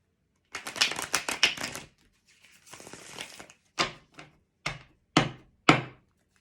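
Deviant Moon Tarot cards being shuffled, a fast riffling flutter followed by a softer sliding stretch, then several separate taps as cards are squared or laid down, close and clear with no talking.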